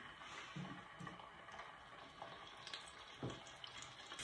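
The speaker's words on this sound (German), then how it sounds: "In großzügig Butter brate ich die Filets an." Redfish fillets fry in a generous amount of butter in a pan, giving a faint, steady sizzle with a few soft clicks and taps of cookware, and nobody speaking.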